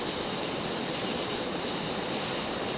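A Codep 52-inch spinner ceiling fan with a 15-degree blade pitch runs on high speed at around 230 RPM, giving a loud, steady whooshing rush of moving air with no pauses or voices.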